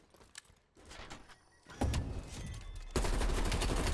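Gunfire from the Call of Duty Cold War game in a search-and-destroy match, with scattered bursts building into loud, dense rapid fire in the second half.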